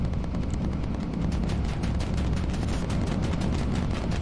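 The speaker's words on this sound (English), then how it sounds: "Focus fire from both of you." Aircraft gunners on a bomber in the video game Bomber Crew fire their guns in a dense, continuous rattle of rapid shots, loud and close over a low engine rumble, with no talking.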